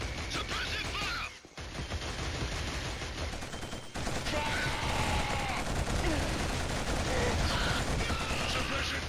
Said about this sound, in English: Suppressive fire! Keep shooting!